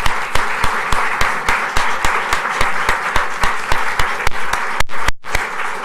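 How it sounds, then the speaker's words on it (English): An audience at a League of Women Voters candidate forum applauds, with one loud, close pair of hands clapping in a steady regular beat over a broad, continuous bed of crowd clapping that briefly cuts out near the end. "let's give these guys a round of applause."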